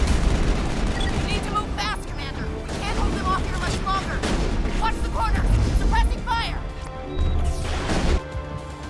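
Gunfire and crashing impacts fill a Mass Effect game cutscene, a dense barrage of shots and smashes under voices talking, loud and continuous with scattered sharper bangs.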